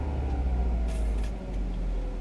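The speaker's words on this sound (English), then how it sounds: "I'll just give it a small one. Can't it be the Subaru Burble?" A cold 2005 Subaru Impreza WRX Hawkeye boxer engine gives a small rev, a deep, steady, rumbling burble that holds throughout without a break.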